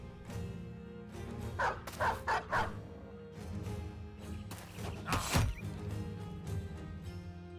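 Dogs in the video game Battle Brothers bark in a quick run of four yips, then a louder single bark later, over a low steady background hum of game ambience.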